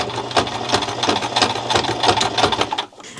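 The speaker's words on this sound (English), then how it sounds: "We're stitching the bias tape on. So we're gonna straight stitch as close as we can to this edge." A sewing machine runs a straight stitch close to the edge of bias tape on a summer garment, giving loud, steady rhythmic bursts of needle strokes with no talking.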